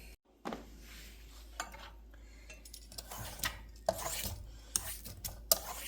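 Zucchini trimmed with a knife on a kitchen cutting board for a no-apple pie filling, a series of sharp close clicks and knocks spaced irregularly over a low background hum.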